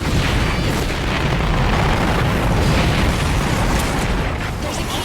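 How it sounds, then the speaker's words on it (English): Massive explosions roar without pause in a co-op video game as whole cities are destroyed, a dense, loud rumble of blasts and booms filling the full five seconds. "you can destroy entire cities with the right weapons"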